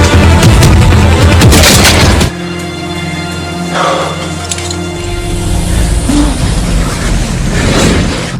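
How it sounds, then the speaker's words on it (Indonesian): Gunfire from a hitman in a John Wick action scene: a loud burst of rapid cracks up front, then heavy booming tones and scattered impacts under a swelling dramatic score. "tiba-tiba seorang pembunuh bayaran menembaki mereka"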